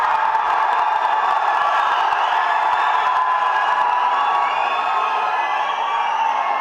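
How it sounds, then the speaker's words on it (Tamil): A large crowd of fans cheers and roars continuously at a film's 100-day celebration event for the Tamil movie Jilla, a dense wall of shouting, whoops and scattered clapping holding steady from start to finish. "நீங்கள் சேர்த்து வைத்ததிலேயே பெரிய செல்வம் இந்த ரசிகர்களின் ஆரவாரம்"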